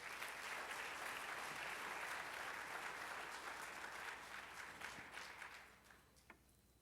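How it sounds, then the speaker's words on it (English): Crowd applause at a Martin Luther King celebration kick-off event, dense sustained clapping from a large audience that holds steady and then tapers off near the end. "Let's give him a round of applause."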